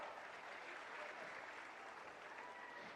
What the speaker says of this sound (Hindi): खांदी सरदार, तालियां आपकी ओर से हर बार हो।